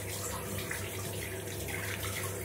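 A sink tap runs with hot water while a paint-stripped plastic model figure is rinsed, giving a steady close splashing hiss over a low hum for the short stretch.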